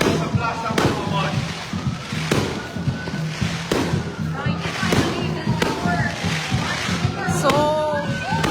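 Fireworks crackle and pop in repeated sharp bursts over a festive crowd at a city plaza for the start of the Danao City 100 race, with a steady hum and chatter of people underneath.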